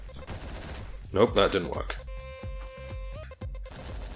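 Gunfire in the top-down video game Hotline Miami: a quick cluster of shots followed by game sounds, with someone talking over it.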